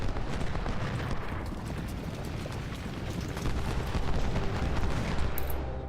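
Musket volleys from skirmishers in the Civil War battle game Ultimate General: Civil War at Gettysburg. Loud, continuous crackling fire and rumbling battle noise fill the whole stretch, with no talk.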